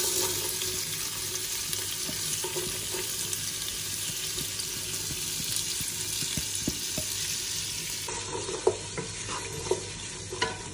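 Vegetables fry in the same pan used for a short rib ragu, giving a steady, close sizzle with scraping and stirring clatter throughout, then a few sharper knocks near the end.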